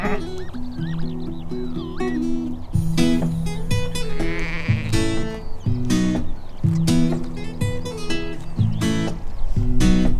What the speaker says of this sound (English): the farmers' fields have been full of sheep, and quite a lot of them have had really cute, adorable lambs in them